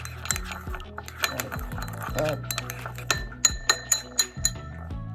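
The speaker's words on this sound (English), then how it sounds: "Give it a quick stir." A utensil stirs marinade ingredients in a bowl for a Thai dish, with repeated bright clinks and scrapes against the bowl that quicken into a run of sharp taps near the end.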